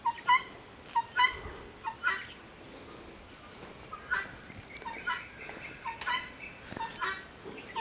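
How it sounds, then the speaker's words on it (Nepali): A turkey in an animal enclosure at Jamunkhadi wetland gobbles repeatedly in bursty, rattling calls spread across several seconds, moderately close against soft outdoor background noise, with no voices. "यो चाहिँ टर्की हो।"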